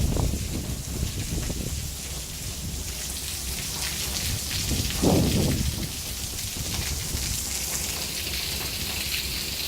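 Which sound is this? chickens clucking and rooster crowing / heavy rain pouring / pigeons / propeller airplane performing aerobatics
heavy rain pouring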